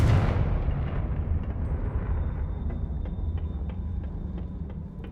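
A Confringo fire spell explodes in Hogwarts Legacy inside a map chamber, with a loud broadband blast at the start decaying into a long rumbling tail and faint scattered crackles.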